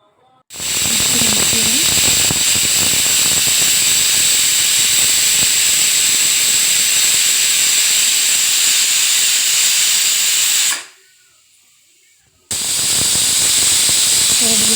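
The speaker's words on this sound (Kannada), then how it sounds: "ಇದು ಎರಡು ವಿಶಿಲ್ ಆಗಬೇಕು" A pressure cooker whistle for an eggplant bele huli shrieks as a loud, steady hissing blast close by, cuts off briefly near the end, then starts again.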